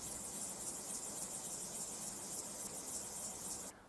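Close, continuous airy scratching of a puff rubbed across Laneige pressed powder in a compact, even and hissy throughout before cutting off at the end.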